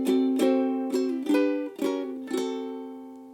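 Ukulele strums a short turnaround chord sequence, five or six bright strummed chords ringing into each other at an easy, steady pace, up close with no talking.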